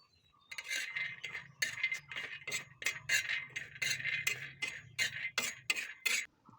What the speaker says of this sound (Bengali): এখন বাদামগুলোকে একটু ড্রাই রোস্ট করে নেব